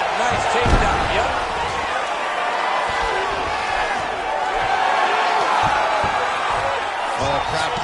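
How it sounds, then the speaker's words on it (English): A UFC 5 video game arena crowd roars steadily through the whole stretch, a dense continuous wash of cheering and whoops with scattered sharper bursts and thumps, while a commentator's voice talks over it. "Well, the crowd pops as she reverses position."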